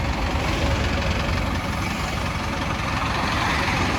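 A heavy tractor diesel engine idles steadily nearby, a deep continuous rumble with a constant low throb and no voices.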